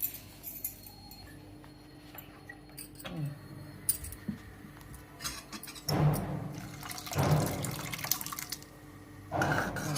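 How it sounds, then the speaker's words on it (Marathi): Water poured into sambar of tur and moong dal inside a pressure cooker, heard as a few short splashing bursts with quieter gaps and faint kitchen clatter in between. "थोडंसं पाणी घालायचं"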